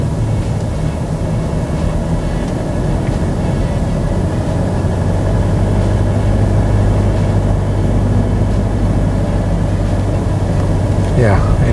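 Steady low rumble inside a Mitsubishi Pajero Sport cabin while driving at 40 km/h, a constant engine and road drone with a faint whine above it, continuous and moderately loud throughout.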